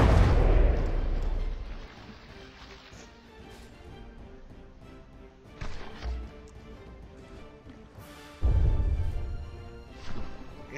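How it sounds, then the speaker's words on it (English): Heavy naval guns boom in the naval combat game From the Depths, with a few loud deep blasts separated by quieter stretches of rumbling ambience. "the guns are able to elevate and keep firing despite this positioning"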